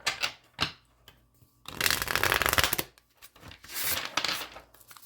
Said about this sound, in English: I am going to pull some oracle cards for you here.